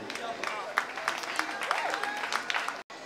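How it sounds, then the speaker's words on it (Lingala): An audience claps and applauds at a rehearsal with Congolese musicians, the crisp claps loud and continuous beneath overlapping talk before a brief dropout near the end. "Est-ce qu'on peut applaudir Bobby la filée, s'il vous plaît?"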